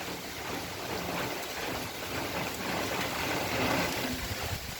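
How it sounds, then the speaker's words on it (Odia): Heavy rain falling in big drops with strong wind, a dense, steady wash of rainfall with a faint swelling gust, moderately quiet and continuous. "ବହୁତ ବଡ଼ ବଡ଼ ଥୋପା ବି ପଡ଼ୁଛି"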